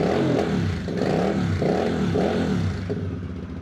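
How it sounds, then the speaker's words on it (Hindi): The twin exhausts of a Voge CU 625 cruiser motorcycle rumble close and loud in rhythmic pulses, swelling and falling roughly every half second as the throttle is blipped, then tapering off slightly. "यहाँ पे 2 अदद एग्जॉस्ट मिल रहे हैं वी सोनिक। बहुत थ्रॉटी साउंड है इसकी।"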